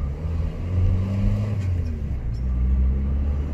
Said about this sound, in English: We're on our way to get a new exhaust on the car because it sounds absolutely terrible.